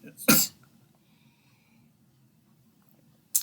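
A single sharp cough, blamed on a dry throat and very dry air, bursts out loudly near the start, with a second brief cough at the end over quiet room murmur.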